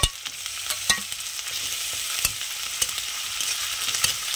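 Chopped onion, then garlic, fry in a pan while being stirred for a fish curry, giving a soft, constant sizzle broken by sharp scraping taps of the spoon against the pan, with no voices.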